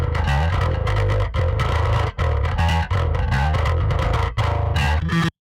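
Heavily distorted bass sits in a dense rock mix from a track, driving steadily with a few brief dropouts before it cuts off abruptly near the end.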